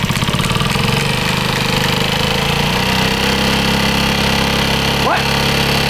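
Seized Honda Ruckus moped engine running steadily with a constant mid-range drone and rapid knocking pulses, loud and close, with voices talking over it.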